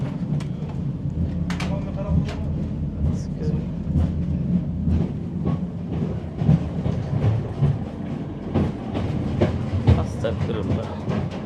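Train carriage in Kazakhstan on a long-distance journey, with steady low rumble and intermittent rail clicks and knocks, while voices talk over the running noise.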